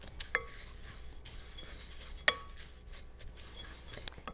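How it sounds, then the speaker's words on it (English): A utensil scrapes and stirs brown sugar into dry oatmeal-bake ingredients in a bowl, making a quiet, gritty rustle with a few sharp clinks against the bowl's side. "So we're just going to break up our brown sugar and mix it together."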